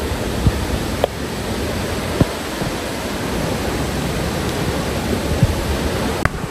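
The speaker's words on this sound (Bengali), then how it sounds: "আমরা হচ্ছে এই যে ওয়াটারফল একেবারে সামনে চলে আসছে এই ঝর্ণার" A waterfall beside a tea garden on the Kandy to Nuwara Eliya road in Sri Lanka gives a steady, close, broadband rushing roar that never lets up, with someone speaking briefly over it.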